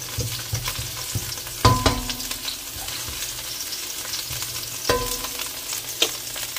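Garlic sizzles in a hot pan for Filipino menudo, a steady close frying hiss broken by a few sharp clinks of a utensil stirring against the pan.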